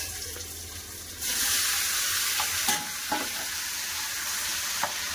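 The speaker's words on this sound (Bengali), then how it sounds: "গরম মশলার সাথে চিকেনটাকে ভালো করে ভেজে নেব" Chicken frying in a karhai with garam masala and peppercorns, a steady close sizzle that swells louder after the first second, with a few soft stirring scrapes through it.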